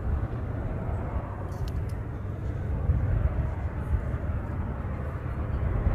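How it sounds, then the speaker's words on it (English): A Hawaiian Airlines Dreamliner passenger jet departing Honolulu airport, its engines giving a steady, broad distant roar that holds evenly throughout with no talk. "Hawaiian passenger Dreamliner departure."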